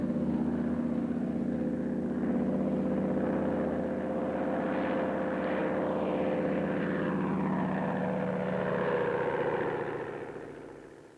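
A British propeller plane drones overhead with a steady, near engine hum that holds for most of the stretch and then begins to fade toward the end.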